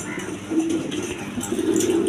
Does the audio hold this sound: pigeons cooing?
yes